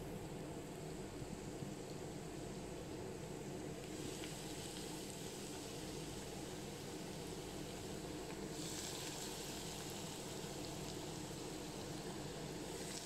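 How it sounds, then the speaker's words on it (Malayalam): Meat rolls frying in hot oil in a pan give a steady, even hiss and crackle throughout, faint and close, with the sizzle brightening partway through and no voices. "നമുക്കിതിലേക്ക് ഓരോ റോൾസായിട്ട് വെച്ച് ഫ്രൈ ചെയ്തെടുക്കാം"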